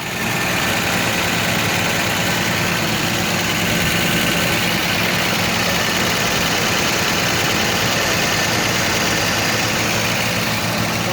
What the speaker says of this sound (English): Engine sounds very nice.